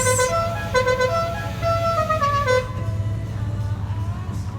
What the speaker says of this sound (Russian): И таким вот музыкальным сигналом он оповещает, что он здесь.